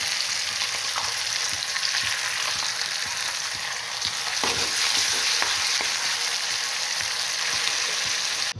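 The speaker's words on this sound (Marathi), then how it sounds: "काळा मसाला आपण खोबरं आणि कांदा वाटून घेतलेला आहे तो आता ह्यामध्ये टाकून देते." Ground coconut and onion black masala for a drumstick curry fries in hot oil, a steady loud sizzle running throughout with a few soft stirring scrapes near the middle.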